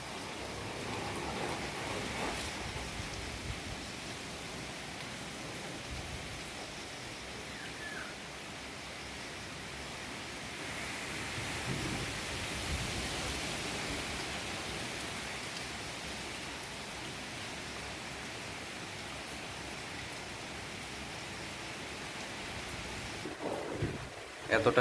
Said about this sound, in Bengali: যেমন ঝড় হচ্ছে তেমন তার সাথে বৃষ্টিও হচ্ছে।